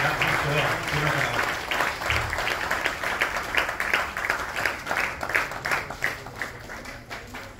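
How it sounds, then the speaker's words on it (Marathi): Audience members at a book launch in Nagpur applaud in a sustained wash of clapping that thins toward separate claps near the end, with a voice speaking over it early on. "सर्वांनी टाळ्या वाजवून हे प्रकाशन जे आहे पूर्ण करा"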